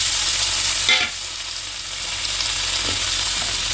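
Tomatoes go into a hot pan with a sudden hiss, then settle into a steady, close sizzle of frying, with no talk.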